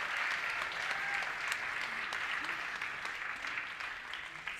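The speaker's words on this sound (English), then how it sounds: "now that deserves a huge round of applause" Wedding guests applaud steadily for several seconds, a dense, even clapping that fades slightly toward the end, with no talk over it.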